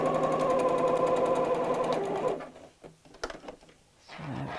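A sewing machine stitches doll clothes for a Barbie, a steady, fast mechanical whirring for about two seconds before stopping, followed by a few faint clicks and handling noises.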